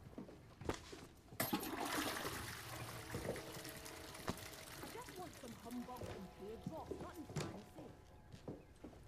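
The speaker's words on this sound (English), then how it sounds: "Flushing all the toilets." Toilets being flushed in the video game Atomfall, a rushing watery swirl under steady speech, with clattering and other game sounds mixed in.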